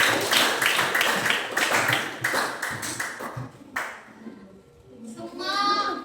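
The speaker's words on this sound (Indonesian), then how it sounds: "mari kita beri tepuk tangan." A classroom group claps for the third group after its presentation, a brisk burst of many hands that fades out, followed by a short chime-like tone, with voices mixed in.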